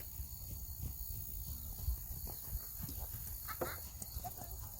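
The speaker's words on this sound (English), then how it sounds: "here I was just trotting her around" A horse trotting in a riding arena, hooves clip-clopping in a steady rhythm at moderate distance over a constant background hiss.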